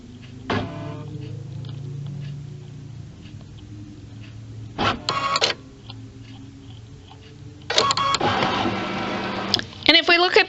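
A Baby Lock Solaris embroidery machine scans the hoop in short mechanical whirring bursts, separated by quiet stretches, with a longer, busier burst near the end.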